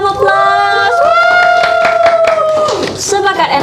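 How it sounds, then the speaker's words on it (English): Audience at a mini conference cheering and clapping after a talk, loud close crowd noise with a drawn-out vocal cheer and scattered claps over the whole stretch. "Please give a round of applause"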